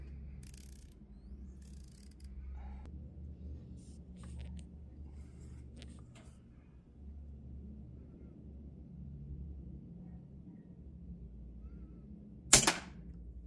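One sharp, loud Hatsan Tac Boss PCP air rifle shot rings out close by near the end, preceded by a long stretch of quiet low background noise with faint clicks.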